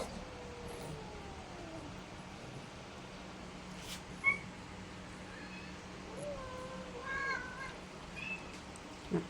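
A household cat meows faintly several times, with thin, high calls scattered over a steady background hum.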